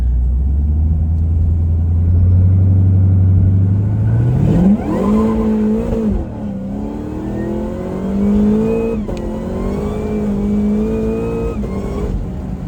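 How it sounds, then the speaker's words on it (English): A 1100 whp Cadillac CTS-V3 launches hard from a deep idle rumble into a loud rising engine roar. The revs climb through the gears with brief dips at each shift, heard from inside the car. "I'm going to turn traction control back on just for the first launch sake, and we're just going to run it."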